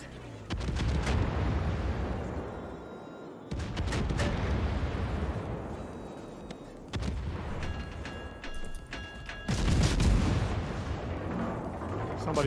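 Naval guns fire at a Moskva cruiser in a warship video game, booming salvos in several loud bursts with rumbling low-end tails and mechanical clanks between them.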